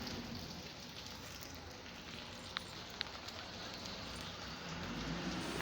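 Heavy rain falls steadily with a dense, even patter throughout, broken by a couple of brief sharp drips or taps; no voices are heard.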